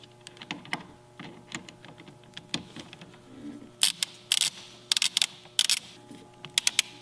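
A motorcycle part is tightened with an 8mm Allen head wrench. Soft metallic clicks and ratcheting bursts come close together, with sharper clustered clicks in the second half over a low steady hum.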